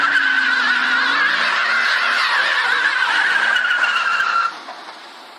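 Tire squeal from a Ford station wagon doing a weak burnout, a loud sustained screech with engine noise beneath, holding steady for about four seconds before cutting off abruptly.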